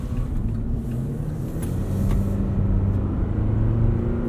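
A 2019 Chevrolet Colorado ZR2 Bison, with a V6 engine mentioned, rumbles while being driven on the road, a steady low engine drone with a slight rise in loudness, heard from inside the cab.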